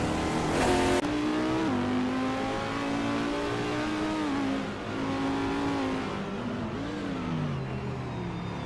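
A 2016 ADAS 03 Nissan race car engine in a racing video game, a continuous high droning whine rising and falling with gear changes and revs, loud and sustained throughout.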